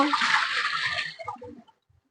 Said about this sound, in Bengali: তো আমরা এখন পানিগুলো ফেলে দিব